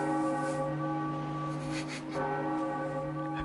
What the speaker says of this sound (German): Es ist nur eine Glocke.